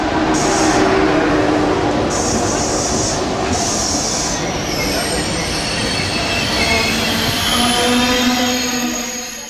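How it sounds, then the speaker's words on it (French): A TGV high-speed train pulls into a station platform, its wheels squealing loudly against the rails under a steady, close rumble of rolling railcars. "Notre TGV en provenance de Paris, le Manzoni, arrive avec 10 minutes de retard."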